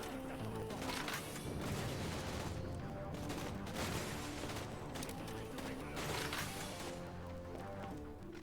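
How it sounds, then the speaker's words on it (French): Rapid gunfire from a weapon in Borderlands: The Pre-Sequel, a dense run of shots packed over game music and effects, loud and continuous with bursts of impacts throughout. "je tire 5 balles, il y en a une qui touche"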